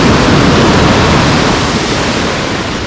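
Sea waves roll in cascades onto Lazurny beach in Lazarevskoye, producing a loud, continuous roar of surf with a slight easing toward the end.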